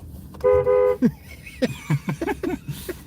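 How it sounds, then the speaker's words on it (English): A car horn gives one short honk, followed by brief chirpy sounds and clicks inside a vehicle. "the chat wants you to honk the horn"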